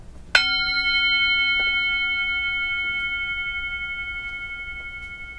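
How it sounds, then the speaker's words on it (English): A meditation bell is struck once and rings out clearly, its bright, pure tone decaying slowly over several seconds with a gentle shimmer in a quiet room, and no voices. "So I'm going to ring the bell and ask you to listen carefully."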